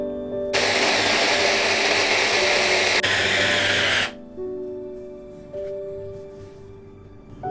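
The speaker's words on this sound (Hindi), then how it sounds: "इन चीज़ों को हम चॉपर में चॉप करके बिल्कुल बारीक कर लेंगे।" An electric food chopper chopping chilies whirs loudly in one steady burst for about three and a half seconds, then cuts off, leaving a faint motor hum and quiet background.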